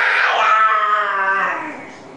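A voice gives a single drawn-out, strained growl-like cry imitating a tiger, loud at first and trailing off.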